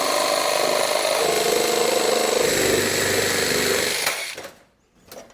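A power tool cuts parts for a go-kart, a steady loud grinding whir running continuously for about four seconds before winding down and cutting off, followed by a brief faint knock.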